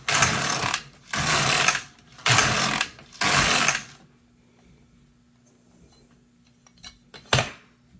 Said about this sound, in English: when I run the carriage across this piece, it will be removed from the machine